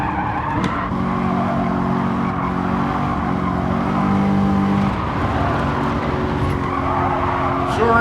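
A race car spins out in Gran Turismo 7, its tires squealing in a long sustained skid over a droning engine, loud and continuous for several seconds, with a voice briefly audible.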